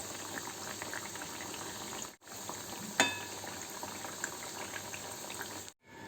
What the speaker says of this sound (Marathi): गॅस थोडासा बारीक करूनच वड्या तळून घ्यायच्या आहेत